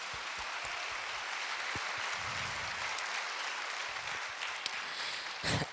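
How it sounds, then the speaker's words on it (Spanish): A church congregation applauds for several seconds, a steady wash of many hands clapping at moderate volume that swells into a louder burst near the end. "Vamos, démosle un aplauso al Señor"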